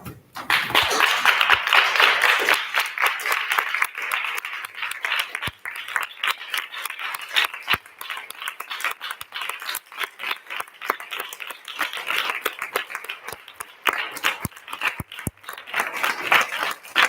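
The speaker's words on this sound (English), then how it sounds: "Please stand up and welcome them with a round of applause" A standing audience applauds as judges enter a hall at a university speech contest closing ceremony, steady rhythmic clapping from a modest crowd, sharp individual claps standing out, continuing with slight swells for about seventeen seconds.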